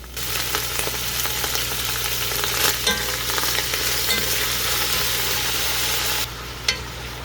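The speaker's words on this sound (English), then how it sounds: "add all of your vegetables in the pot and give it a quick stir" Vegetables being stir-fried in a pot for a vegetarian chow mein, with a steady, close sizzle and scraping stirs running continuously before quieting near the end.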